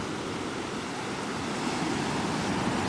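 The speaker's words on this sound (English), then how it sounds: "Oh, those waves, the power in those waves below." Ocean waves crash against the coast below a cliffside road on Madeira, a continuous roaring surf mixed with wind that swells louder partway through, with no voices.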